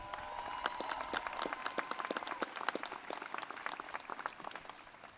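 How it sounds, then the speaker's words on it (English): An audience at a college commencement ceremony gives a round of applause, with individual claps heard as crisp, scattered snaps rather than a thick roar. The applause is fairly soft and distant and continues steadily throughout. "Let's give them a round of applause."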